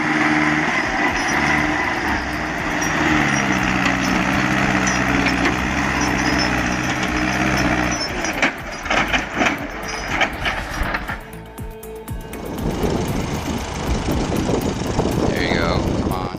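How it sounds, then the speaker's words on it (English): A tractor engine labours on a snowy road, pushing a truck loaded with timber. The drone is steady and close, with loud clatter and knocking in the second half and people talking over it. "Always reverse the tractor to push the timber truck."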